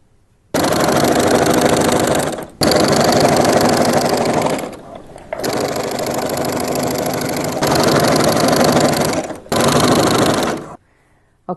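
A sewing machine stitches a fabric play mat for toy cars in loud, steady runs of rapid mechanical whirring, stopping briefly several times between seams.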